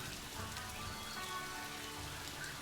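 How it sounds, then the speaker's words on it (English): Rain in the Planet Zoo video game patters steadily on surfaces, a soft, dense, even drizzle of droplets with no one speaking. "Love that it's raining for Nikedra."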